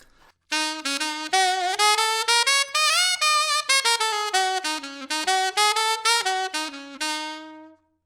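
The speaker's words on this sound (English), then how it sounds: "if we just started improvising using swing eighth notes," A reedy horn improvises a flowing melody with a lilting, uneven long-short rhythm, notes gliding up and down before settling on a held final tone.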